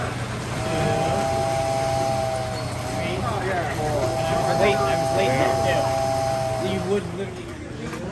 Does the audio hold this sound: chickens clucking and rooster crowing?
no